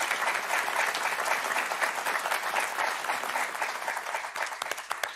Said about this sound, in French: Je voudrais qu'on l'applaudisse très très fort.